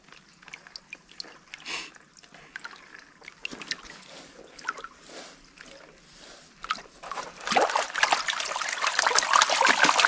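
Dirty water trickles and splashes as crumbled crevice material is washed for gold outdoors, starting as soft scattered dribbles and building to a louder, continuous splashing toward the end.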